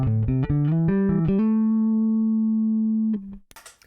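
Electric guitar played clean through a Neural DSP Quad Cortex with no Valve Drive, a few quick picked notes, then a single chord ringing out for about two seconds before a short muted scrape, alone.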